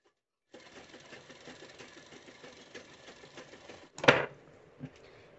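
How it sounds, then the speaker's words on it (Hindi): A sewing machine stitches the neckline of a blouse through lining and fabric, running with a steady fast mechanical patter for several seconds, then a sharp louder clack and a few brief knocks. "अस्तर और कपड़े को अच्छे से मिलाते हुए जहाँ से गले का निशान बनाया है वहीं से सिलाई चला देना है।"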